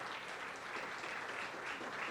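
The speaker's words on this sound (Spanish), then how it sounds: "Démosle una ofrenda de aplauso al Señor." A church congregation claps in an offering of applause to the Lord, a dense, continuous patter of many hands heard at a moderate distance, with no one speaking.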